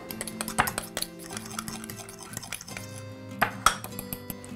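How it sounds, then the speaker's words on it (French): A spoon mixes a French-style white sauce with chives and pepper in a bowl, giving quiet, irregular clinks and taps against the bowl over a faint background hum, no voices. "On n'oublie pas de bien mélanger."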